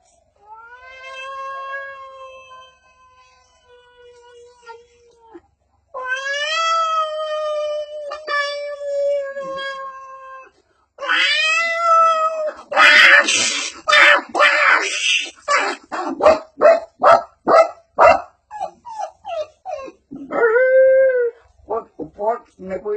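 A blind mimicry artist uses his voice to imitate a cat and a dog: drawn-out meows and caterwauls first, then a string of sharp, loud, rapid barks and yelps close to the microphone.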